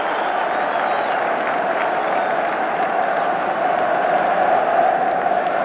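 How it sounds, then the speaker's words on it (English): Huge crowd at a 1978 FA Cup match between Ipswich Town and West Bromwich Albion applauding a defensive clearance, a dense, loud, continuous roar of clapping and cheering that swells slightly toward the end. "And listen to the applause."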